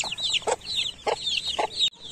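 Young baby chicks at feeding time give a busy stream of high, thin cheeps and chirps, with a few lower clucks mixed in, close by and fairly loud.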